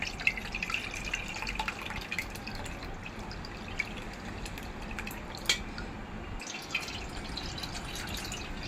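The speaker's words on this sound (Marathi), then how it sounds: "आता आपण हे गाळून घेऊया" A melted jaggery and milk mixture is strained, its liquid dripping and trickling steadily close by with occasional brighter drops, quiet and without any voices.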